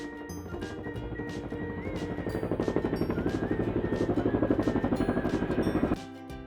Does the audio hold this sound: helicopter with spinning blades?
yes